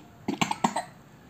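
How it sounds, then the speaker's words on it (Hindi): A few short, dry coughs from a child in quick succession, close and fairly soft, then quiet. "मुझे खांसी है"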